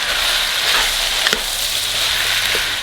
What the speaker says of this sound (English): I'm going to add in the sliced mushrooms and the sliced zucchinis. Give this a stir and allow this to cook for about 2 minutes.